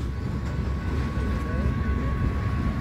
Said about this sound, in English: A freight train's going by first.